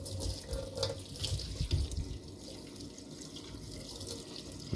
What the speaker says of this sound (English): The trick is you just put it under water.